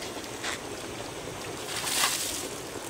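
Water splashing onto a motorbike being washed in a river, a steady wet rush with a brief louder surge near the end, heard alone without voices.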